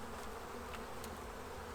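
Honey bees hum and buzz steadily around an opened hive in spring, a dense continuous drone that stays close and even throughout.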